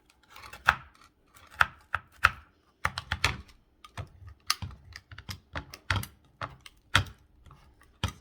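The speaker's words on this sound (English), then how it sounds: "Just going to cut them out." A knife cuts marshmallow cereal bars in a baking pan, giving sharp, irregular taps and clicks against the pan, close and fairly loud, in quick uneven bursts with no talking.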